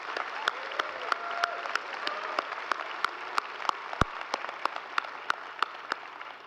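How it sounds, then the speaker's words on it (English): Graduates applaud at a commencement ceremony, steady crowd clapping punctuated by a few sharp, louder nearby claps at a regular rhythm. "I want you to give yourselves another round of applause for what you've come through"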